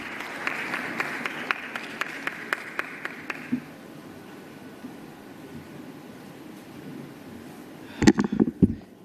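An audience applauds the General Manager at a conference closing ceremony in Tanzania, a broad wash of clapping that fades out after a few seconds, followed by a stretch of room tone and a burst of sharp knocks near the end.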